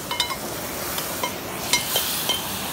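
Chicken meat, 1.5 kg and already washed, sizzles in a pot outdoors by a river, with occasional sharp stirring clinks and scrapes over a steady frying hiss.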